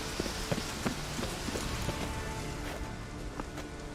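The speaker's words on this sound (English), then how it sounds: "Looks like rain." Steady rain in The Witcher 3 patters across a surface, with occasional heavier drops ticking through the continuous hiss; no voices.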